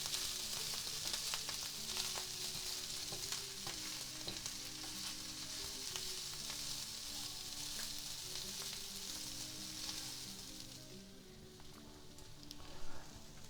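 Chicken frying in a pan over lowered heat gives a steady, continuous sizzle with light crackles throughout, with no talk over it.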